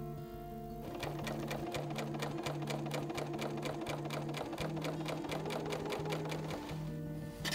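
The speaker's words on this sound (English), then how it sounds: "Sew a few stitches to stabilize the tape." A BERNINA sewing machine fitted with a Clear Overlock Foot #L27 sews bias tape: a quiet motor hum under a fast, even train of stitch clicks that runs steadily for several seconds.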